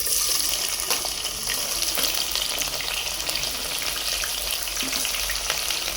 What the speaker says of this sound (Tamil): இப்போ வெங்காயத்தை போடுறேன்.